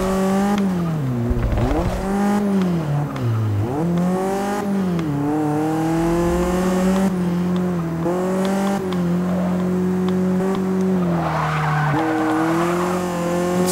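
Race car tires squealing and skidding in Forza Motorsport 6, loud repeated wavering screeches through corners over a constant high-revving engine, close and without talk.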